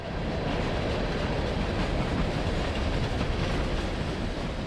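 A Norfolk Southern freight train rumbles across a road crossing close by, with a continuous heavy roar and faint rhythmic clatter of wheels over the tracks, steady throughout, no voices.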